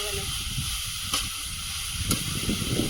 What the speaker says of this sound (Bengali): কষিয়ে নেব মশলার সঙ্গে